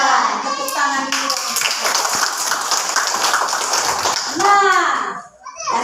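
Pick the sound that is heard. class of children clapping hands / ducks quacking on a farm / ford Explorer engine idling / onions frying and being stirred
class of children clapping hands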